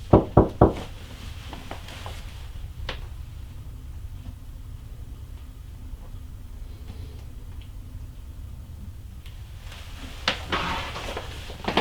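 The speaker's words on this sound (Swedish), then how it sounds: "Ska knacka på här." Knuckles rap three quick times on a wooden wardrobe during a ghost hunt in a reputedly haunted house in Junosuando. A long stretch of quiet room tone follows, then a few more faint knocks and bumps near the end.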